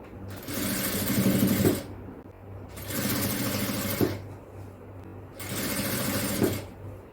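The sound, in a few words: sewing machine stitching folded neck fabric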